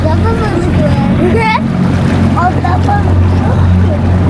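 Low steady drone of a boat motor running on the sea off Kuşadası, Turkey, with wind rumble and people talking and calling out over it.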